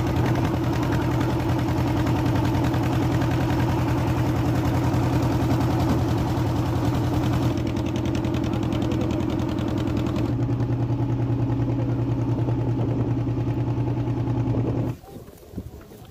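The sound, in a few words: boat engine running during river crossing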